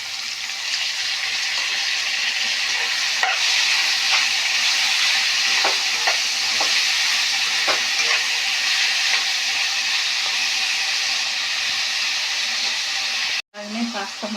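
Tomatoes frying in a pan for a pasta dish, a steady loud sizzle with occasional stirring clicks, running continuously without talk and cutting off briefly near the end.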